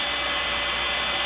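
A heat tool blowing hot air onto lead jig heads before powder coating, giving a steady, close, loud whooshing roar like a hair dryer that holds unbroken throughout.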